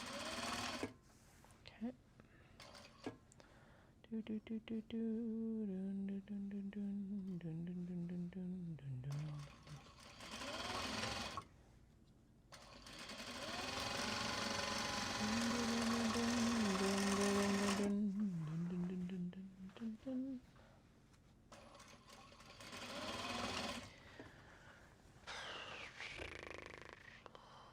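Home sewing machine stitching Japanese fabric bags, running in several bursts of steady whirring and mechanical chatter that start, stop and shift speed, with someone talking briefly between runs.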